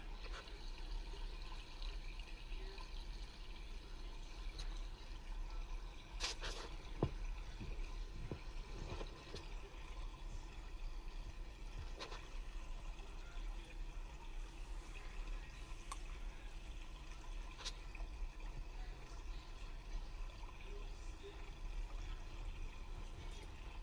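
Creek water trickles and gurgles steadily in the open, a soft continuous babble with a few sharper splashes and drips, no voices over it.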